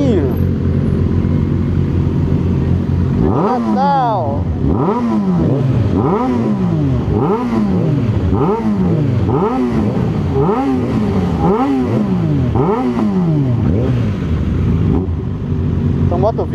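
A motorcycle engine revs repeatedly in rising and falling bursts, loud and close, with a steady rhythm of throttle blips over a constant rumble.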